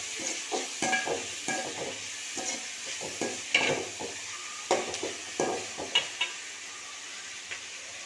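Ingredients for a crab fry sauté in a pan toward golden colour, a soft sizzle under repeated close spatula scrapes and clinks against the pan, with no talking.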